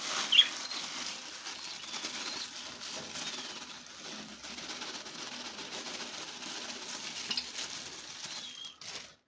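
A ring-necked parrot flaps its wings inside a wooden breeding box, making a steady, close rustling flutter that continues for several seconds with brief louder bursts.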